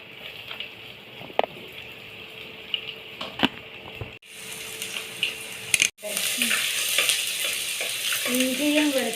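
Ginger and garlic frying in a pan for sardine curry, a close sizzle with scattered stirring clicks that grows louder and fuller after a brief break partway through.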